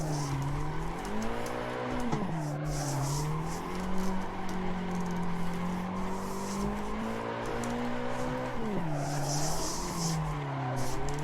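An Assetto Corsa video game car engine revs and shifts pitch with the throttle while tires squeal through drifts, the whine rising and falling over several seconds.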